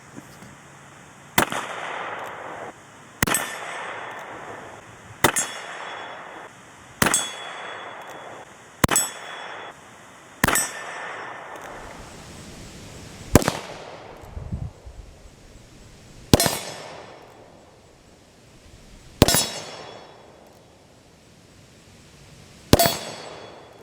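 A Charles Daly 1873 Single Action Army revolver fired at a 25-yard target, about ten loud, sharp shots with a metallic ring, spaced roughly two seconds apart, each trailing off in a short echo outdoors, with no talking.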